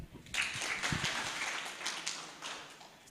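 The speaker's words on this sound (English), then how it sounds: "Let's clap for them." Scattered clapping from an audience at a workplace safety and health talk, a short moderate burst of handclaps that thins out over a few seconds.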